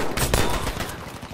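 Gunfire in the video game Battlefield 5, a loud, dense stretch of rapid shots and bursts that fills the whole moment with no voices over it.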